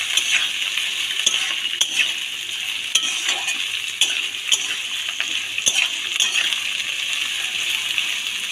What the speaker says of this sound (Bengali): আমি এই তেলের মধ্যে দিয়ে ভালো করে ভেজে নেব।